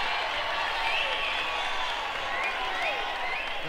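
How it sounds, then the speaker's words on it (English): Audience at a live soul concert at Glen Mills Reform School for Boys applauding and cheering, a dense continuous wash of clapping with scattered voices and whistles throughout. "How about a nice big round of applause from WIBG,"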